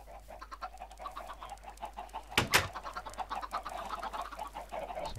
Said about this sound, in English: And a chicken farm.